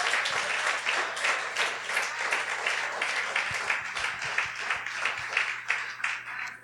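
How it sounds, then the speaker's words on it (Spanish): Congregation applauding the Lord during an evangelical sermon, a steady roomful of hands clapping, dense and sustained for several seconds without letup. "Dele el aplauso al Señor."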